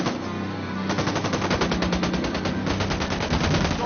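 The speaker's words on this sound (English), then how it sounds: "Acabo de escuchar un tiro" Video game machine gun fire rattles in a sustained, rapid automatic burst, loud and continuous for several seconds with no talk over it.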